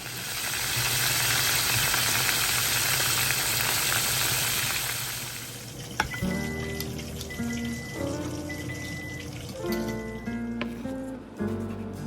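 Fermented sour fish (pla som) frying in hot oil, giving a loud, steady, close sizzle for about six seconds, then quieter crackling with scattered clinks of a utensil against the pan.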